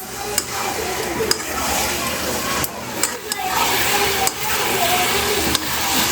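Mutton being stir-fried (kosha) in a pan at home, with a continuous close sizzle and frying hiss broken by scraping and stirring of a spatula against the pan.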